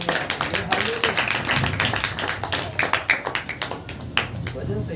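A congregation at a Saturday church prayer meeting claps hands in thanks to God, a dense, steady run of hand claps filling the room beneath an ongoing voice.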